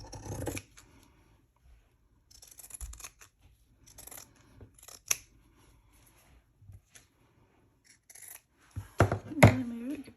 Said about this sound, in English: I have my red gingham. Let's use my pinking shears again.